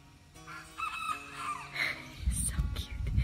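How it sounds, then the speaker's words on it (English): A young backyard rooster gives a thin, strained first crow, somewhat distant, followed by rustling and low handling noise near the microphone. "This is the first day I'm hearing him crow."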